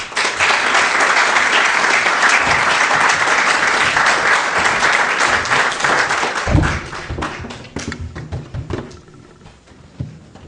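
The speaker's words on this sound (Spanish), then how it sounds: "Por favor, un fuerte aplauso." Strong, dense audience applause at a Peruvian numismatic society presentation, loud and sustained for several seconds before thinning into scattered claps and thumps as a single voice begins to speak near the end.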